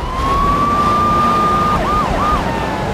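A police siren wails in Grand Theft Auto 3 while officers chase the player, a steady loud tone that shifts into a rapid rising-and-falling yelp pattern near the end, heard alone without talk.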